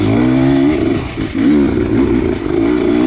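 A 2021 Beta 300 RR two-stroke dirt bike climbs a steep hill in second gear, its engine loud and close, revving hard with brief dips and surges as the throttle is worked.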